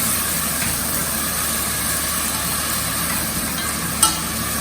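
Chopped tomato and tiny vegetable pieces frying in a pan while being stirred, giving a constant close sizzle with one sharp clink of the utensil near the end and no voices.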